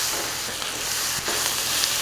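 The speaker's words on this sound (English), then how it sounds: "So our onions have been cooking for 4 or 5 minutes." Onions, garlic and sprigs of fresh thyme fry in a pan, giving a steady close sizzle with faint stirring crackles throughout, no voices.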